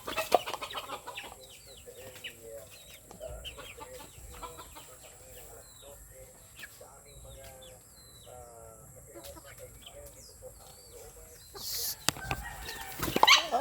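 Chickens cluck and chatter in short bursts, close by, with occasional wing flaps and a sharp rustle near the end; a person speaks at times.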